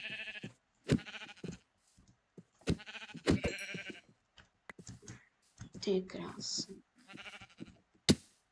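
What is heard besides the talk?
sheep bleating in Minecraft video game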